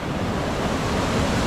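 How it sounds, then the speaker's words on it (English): A waterfall in northern Bali gives a steady, dense roar of rushing water, loud and unbroken for the whole moment, with no voices over it. "Korea waterfall. Korea waterfalls."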